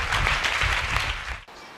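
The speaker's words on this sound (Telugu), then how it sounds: "అందరూ గట్టిగా చప్పట్లు కొట్టండి" A church congregation at a bishop's Telugu Christian service claps loudly together, dense rapid applause filling the space for over a second before cutting off.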